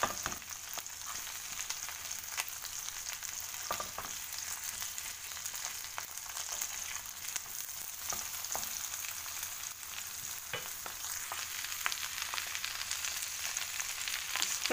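Prawns sizzle in a pan while browning, a soft, steady frying hiss broken by small scattered pops and light clicks of turning, with no one talking.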